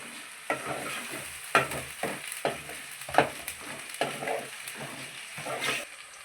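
Masala and tomatoes frying in a pan for chicken curry, a steady close sizzle broken by repeated scraping stirs at an uneven rhythm, with no talking.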